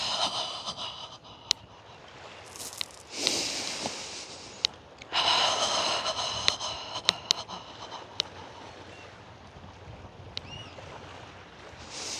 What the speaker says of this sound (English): Breathing in through your nose and out through your mouth with a ha.